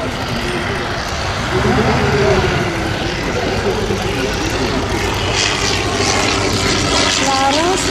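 A Blériot XI replica at La Ferté-Alais runs its propeller engine, a loud, steady droning roar close by that swells slightly midway, with voices faintly underneath.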